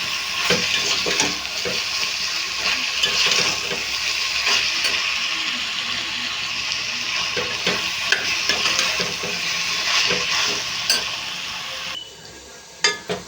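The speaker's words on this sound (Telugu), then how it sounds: "ఉల్లిపాయలు వంకాయలు బాగా ఫ్రై చేసుకోవాలి" Brinjal and onion pieces fry hard in an oiled pan, a loud, continuous sizzle broken by regular scraping stirs and clinks of the spatula, then a brief quieter moment with a couple of final knocks.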